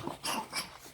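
A small dog outdoors gives a quick pair of sharp, yippy barks within about a second, close and fairly loud, with no one speaking over it.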